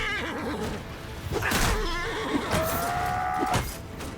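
Horses neigh and whinny amid battle noise in Mount & Blade II Bannerlord, one long whinny standing out near the middle, fairly close.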